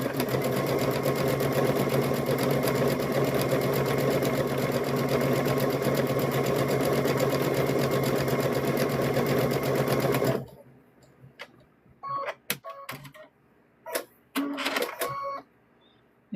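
A sewing machine stitches and backstitches the fabric of a stuffed bear, running steadily and loudly for about ten seconds, then stopping and giving way to a few short bursts and quiet handling clicks.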